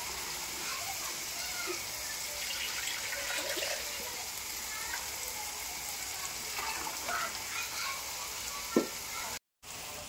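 Tomato rasam simmers in a pot with a soft, steady bubbling hiss, faint and even throughout, with a single small knock near the end.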